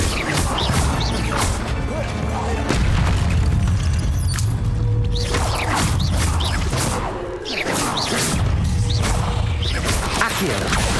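A fire spell cast in the Hogwarts Legacy video game, with loud, dense crashing and booming effects that keep going for the whole stretch, briefly easing around the middle before surging back.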